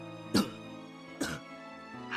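A character clears their throat twice in the Higurashi: When They Cry visual novel, two short, rough bursts almost a second apart over a steady, soft musical background.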